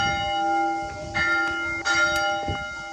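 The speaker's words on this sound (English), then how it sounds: "Take a listen to the bells." Church bells ring at noon at a Middle Byzantine monastery near Delphi, with loud, ringing strikes that layer over a sustained metallic hum and repeat irregularly, close by, with no voices.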